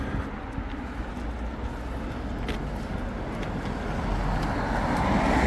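Steady roar of road traffic on a busy main road nearby, a continuous low rumble of passing vehicles that swells slightly louder toward the end, with no voices.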